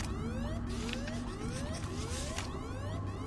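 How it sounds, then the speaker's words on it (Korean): A blaring alarm in The Coma 2, a horror video game, with repeated rising siren sweeps layered over a dense mechanical drone, loud and continuous throughout. "미친 경보기?"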